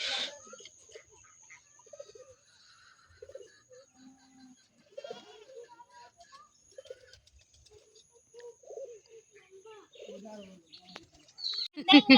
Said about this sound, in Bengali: কবুতর ওই যে দেখেন কবুতর